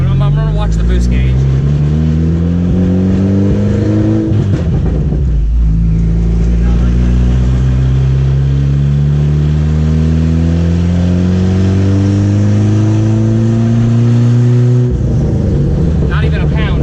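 Close, loud engine of a Chevrolet Cobalt SS fitted with a 6262 turbo, pulling hard at near full throttle in two long rising runs, with a brief dip between them as the revs drop and climb again.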